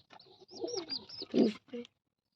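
Pigeons in a coop coo softly and close by in a short burst of rolling, throaty calls that swell to a louder coo near the middle before stopping, leaving a brief quiet end.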